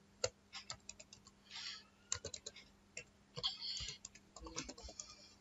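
Computer keyboard typing in a quiet room: quick, irregular clusters of soft key clicks with brief pauses between bursts, close and fairly faint.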